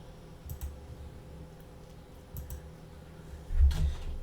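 Soft, sparse keystrokes on a computer keyboard, a few separate clicks and short bursts at close range, fairly quiet, with no talking.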